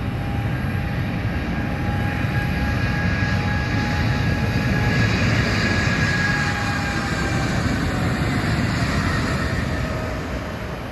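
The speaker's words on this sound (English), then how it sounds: "So that last sound was a 777-200." An Iraqi Airways Boeing 777-200 jet at Phoenix Sky Harbor gives a steady, loud engine roar with thin whining tones, holding for about eleven seconds and easing slightly at the end, with no voices.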